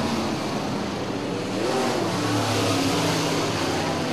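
Modified race cars lapping a dirt track during an A feature: a loud, sustained engine roar as cars power around the turns, the pitch rising slightly midway, steady throughout.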